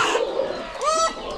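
A rooster on a village poultry farm of several hundred country chickens gives short, close, tonal calls with rising and falling pitch against a busy background of other birds.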